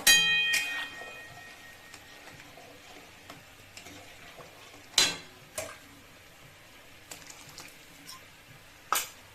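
A spoon stirs momo soup thickened with cornflour in a pot, with soft scraping and a few sharp metallic knocks against the rim spaced through an otherwise quiet stretch.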